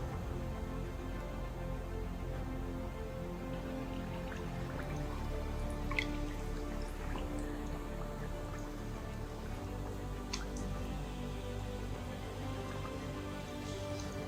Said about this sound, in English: we place the denim on the hot water.